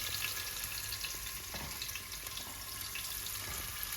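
Green chillies frying in hot oil give a steady, faint sizzle with a soft hiss, an even bubbling that carries on without a break and with no one talking.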